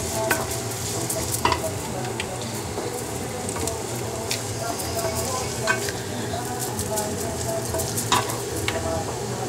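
Vegetables for achard cooking in a pan, a steady broadband sizzle and frying hiss with occasional utensil scrapes and clicks from stirring, continuous and fairly close throughout.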